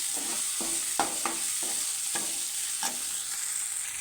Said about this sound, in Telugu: కొంచెం అల్లం పేస్ట్ వేసి వీటిని నీట్గా ఇలా కలుపుకోవాలన్నమాట